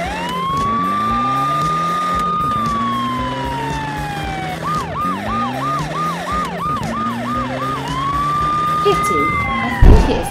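Cartoon police car sirens sound loud and continuously throughout, slow rising and falling wails broken in the middle by a rapid stretch of yelping pulses, then a return to the wail, with a brief thump near the end.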